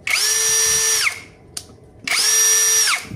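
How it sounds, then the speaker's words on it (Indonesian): Zhipu 16V brushless cordless drill run at low speed in drilling mode, two whirring bursts of about a second each separated by a short pause with a faint click, close and loud. "usahakan ngebor itu di angka di mode drilling aja di sini dengan kecepatan rendah"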